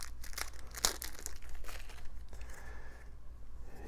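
A security camera battery's packaging is unwrapped, giving close, crinkling plastic rustles in short bursts, with no talking.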